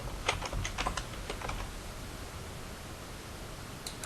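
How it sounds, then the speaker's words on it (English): A search phrase is typed on a computer keyboard: a quick burst of close key clicks at the start, then quiet hiss with a single faint tap at the end. "Type in a word or phrase and press the search button"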